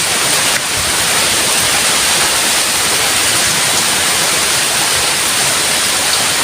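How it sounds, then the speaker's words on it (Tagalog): Steady, loud rain falls continuously during a rainy spell after a flood, a dense broadband hiss with no breaks and no one speaking. "Ito yung ulan."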